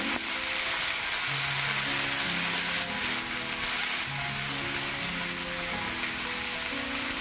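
Kakrol posto, spiny gourd in poppy seed paste, sizzles steadily in a pan while being stirred, a close, continuous frying hiss with soft scraping and no talk.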